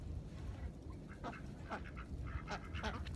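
Faint duck quacks sound in scattered bursts over a noisy outdoor farmstead background, a few calls clustering toward the end.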